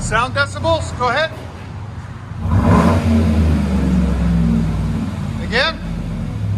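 GMC truck with a 5.3L V8 and aftermarket exhaust: the engine swells into a loud, sustained rev with a low rumble, and speech comes before and after it.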